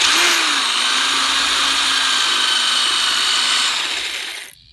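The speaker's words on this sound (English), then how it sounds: "Here's the pilot. I'm going to do non-hammer drill." A power drill in non-hammer mode bores a pilot hole into a wall, a steady high-pitched whine running close and loud for over four seconds before cutting off abruptly.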